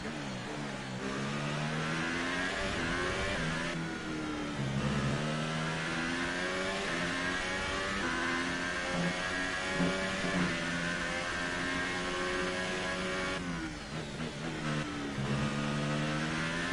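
A Formula 1 car engine in the video game F1 2018 revs high and steady for the whole stretch, pitch sweeping up and down with gear changes, loud and close with no voices.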